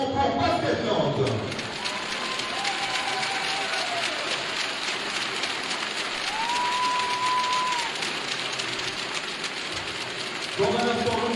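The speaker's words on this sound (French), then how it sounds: "applaudissements pour Basket Nantes" Arena crowd at a women's basketball game between Charleville-Mézières and Basket Landes applauds in a continuous, dense roar of clapping, with a few whistles rising above it and crowd noise shifting near the end.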